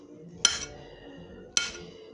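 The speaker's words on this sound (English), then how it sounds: "Alright, chopping up the banana." A knife strikes a cutting board twice while chopping banana, two crisp, separate clicks about a second apart, quiet and close.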